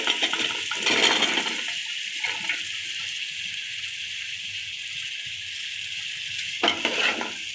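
Vegetables hit a hot oiled pan for vegetable biryani with a loud burst of sizzle, then settle into steady close frying crackle, with occasional clinks of a spoon stirring.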